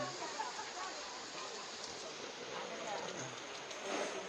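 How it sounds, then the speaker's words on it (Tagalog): Steady rainfall on a weekday morning in Taiwan near the Maokong Gondola, an even close hiss of drops throughout with no talk. "Umuulan guys."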